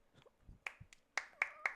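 A few sharp hand claps, four distinct strikes spaced unevenly over under two seconds, close and fairly quiet in a small room, following a brief stretch of talk.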